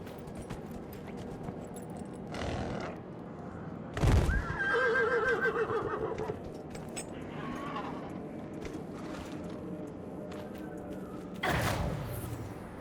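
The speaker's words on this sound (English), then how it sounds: "Horse." A horse in the fantasy role-playing game Dragon Age: Inquisition neighs loudly, with a burst near the start and a fainter whinny later, set against continuous game music and ambience.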